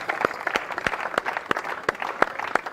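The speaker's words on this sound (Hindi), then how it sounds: "एक बार सबके लिए जोरदार तालियां।" A small group at a defence academy prize ceremony claps for medal winners, sparse and rhythmic with individual sharp claps standing out at close range over a thinner background patter.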